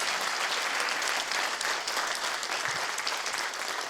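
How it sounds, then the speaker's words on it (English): Sustained applause from an audience at a student film festival Q&A honoring a production teacher, steady and dense throughout with no talking. "a round of applause"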